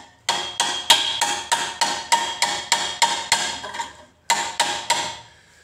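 Sharp, ringing slaps from a wooden hammer handle striking a copper cup, about a dozen evenly spaced blows close up, a short pause, then three more, with no talk.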